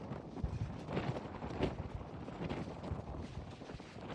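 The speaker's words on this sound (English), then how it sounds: "Stupid wind." Wind buffets an outdoor microphone on a sunny day, a steady low rumble with gusty swells and thumps running the whole time, no voices.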